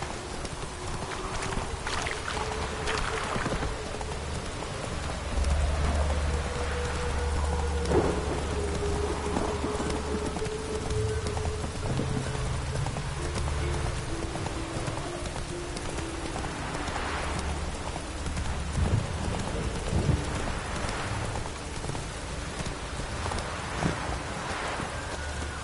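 Rain falls steadily in a Witcher 3 game scene while thunder rumbles low and rolls several times, with a few clopping hoofbeats now and then, moderately loud and continuous.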